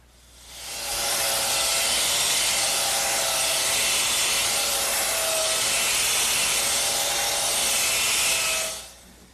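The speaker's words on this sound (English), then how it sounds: "I'll just saw these off with my handsaw" A handsaw rasps steadily through wooden dowels in one continuous stretch of rapid back-and-forth strokes, close and loud, with no talking.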